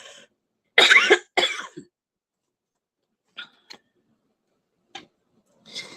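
A few sharp coughs close by, a pair of harsh bursts followed by several smaller, softer coughs spaced out over the following seconds.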